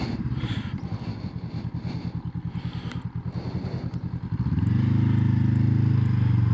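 A 2023 Honda CL500 Scrambler rides along a road with a close, pulsing parallel-twin thrum that turns into a smooth, steady drone as the throttle opens, with wind rush underneath.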